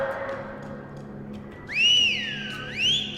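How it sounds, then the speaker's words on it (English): A whistle blows in the horror video game Lost in Vivo, heard from a dog's perspective: two rising-and-falling whistled calls, fairly loud, over a quiet ambient background. "Oh, and I hear a whistle."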